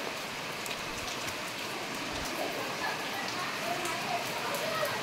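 Steady rain falls during an outing to a temple, a dense even hiss of drops on surfaces that holds constant throughout, with no clear talk over it.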